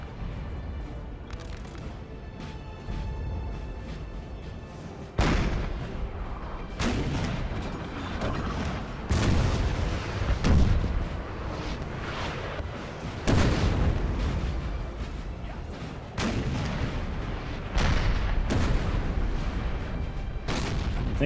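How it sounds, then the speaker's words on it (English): Teams of 6-pounder cannons firing in a Napoleon Total War battle, heavy booms landing every few seconds at irregular intervals over a continuous battlefield din, some shots close and loud, others more distant. "It's hard to keep track of all the artillery action."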